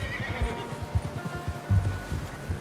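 A horse whinnies in the video game Red Dead Redemption 2, with a short neigh and snorting breaths over a low, rumbling background. Hoof clip-clops and faint voices mingle beneath it.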